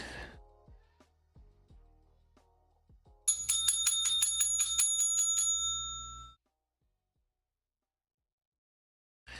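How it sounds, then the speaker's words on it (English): A small hand bell rings in a rapid burst of about a dozen close, bright metallic strikes for roughly three seconds, preceded by light tapping and followed by sudden silence. "I'm just seeing if someone comes if I ring the bell."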